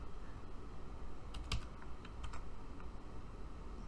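Faint typing on a computer keyboard, a few quick, light clicks in short bursts over a low background hiss.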